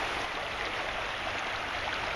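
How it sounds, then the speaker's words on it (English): Steady broadband rush of flowing stream water along the Little River on a fall day, continuous and fairly close with no pauses or voices. "All the nice fall weather and the sound of the water."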